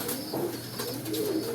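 A crested pigeon coos in soft, low, repeated phrases, fairly close, over a steady background hiss, with faint higher chirps from other birds around it.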